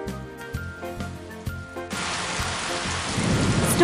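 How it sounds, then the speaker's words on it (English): After a short musical passage, heavy rain pours down with a rolling rumble of thunder, building louder toward the end. "It's stormy."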